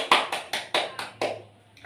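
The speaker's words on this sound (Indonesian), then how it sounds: "tepuk tangan dulu." A class claps hands in a quick unison burst, about six sharp even claps close by, followed by a faint trailing clap, with no talk.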